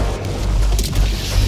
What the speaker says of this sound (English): If I had known it was a hell bomb, I just would have shot the hell bomb.